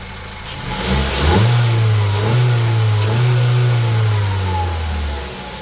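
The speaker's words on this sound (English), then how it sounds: "Give it a couple of revs." A Ford Focus engine, just repaired after an oil leak, is revved a couple of times from idle, rising to a steady, loud hum before settling down, with no voices.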